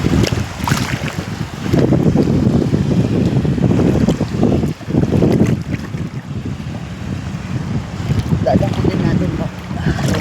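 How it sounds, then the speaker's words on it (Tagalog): Strong sea waves surge and splash against a boat, water crashing in loud, uneven bursts under heavy wind buffeting the microphone, close and continuous. "Lakas ng tapon ng tubig. Lakas ng alon."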